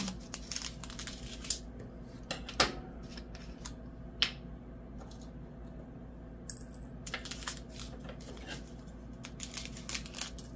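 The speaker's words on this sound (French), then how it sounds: "Je vais essayer de bien couper." Scissors snip a small plastic bag of diamond painting drills, with scattered sharp clicks and crinkles close by against a low background hum.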